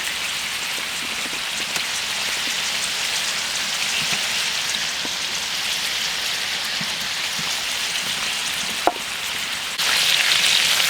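Coot meat, a wild water bird, fries in a pan with a constant, dense crackling sizzle like steady rain. A sharp tap sounds near the end, then the sizzle grows louder.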